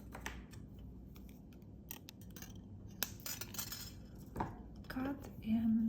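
Cutters snip jewelry wire while a wire heart pendant is made, giving a few sharp metallic clicks and small clinks close up with faint handling noise between them.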